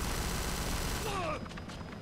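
Gunfire from a machine gun in the video game Kane & Lynch 2, a dense, steady fusillade of rapid shots that runs continuously before thinning into a few scattered bursts and mechanical clatter.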